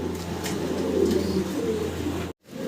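Pigeons kept by a seller, a white one and a black one among them, cooing in low throaty rolling murmurs close by, before a brief silence and a return of the background.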